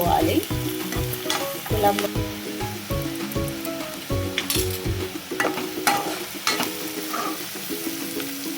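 Ginger and garlic fry in hot oil for a potato and chana dal curry, with a steady close sizzle under repeated clanking strokes of a spoon stirring the pan.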